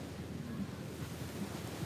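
Sea waves at Dangkalan Beach in Bulusan wash in as a steady, continuous surf roar with some wind noise on the microphone and no distinct breaking crashes.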